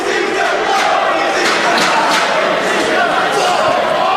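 Loud, sustained cheering and yelling from a packed wrestling audience following a piledriver through a table, with sharper shouts and whoops spiking over the continuous roar.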